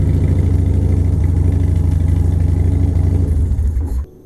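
A Harley Dyna motorcycle engine revs hard and steady while in gear with the clutch out, a loud, continuous near roar that holds for about four seconds before dropping off abruptly.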